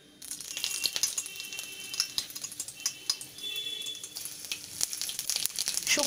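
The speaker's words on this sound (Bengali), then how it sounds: "শুকনো লঙ্কা জিরে তেজপাতা ফোড়ন দিয়ে দেওয়া হলো" Dry chilli, cumin and bay leaf hit hot oil for a tempering, giving a sudden loud spitting sizzle that crackles and pops irregularly throughout, with a brief metallic clink.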